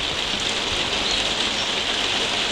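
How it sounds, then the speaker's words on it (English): Heavy rain pouring outdoors at Pebble Ridge, Northam Burrows, on a grey, windy day, a dense, steady hiss of drops with no breaks and no voices. "It's pretty grey, pretty heavy now, the rain."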